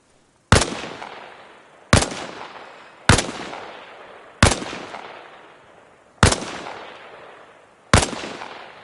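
Six loud, sharp single gunshots ring out during Arma Reforger training, spaced roughly a second or more apart, each followed by a decaying echo.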